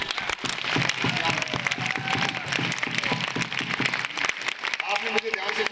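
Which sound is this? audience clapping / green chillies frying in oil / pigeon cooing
audience clapping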